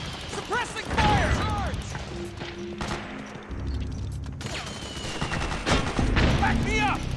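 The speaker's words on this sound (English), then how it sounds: "Fire! Fire! We've got company! Suppressing fire!" Suppressing gunfire in Metal Gear Solid 4 crackles in bursts of shots and clattering impacts, with shouted voices mixed over the battle noise.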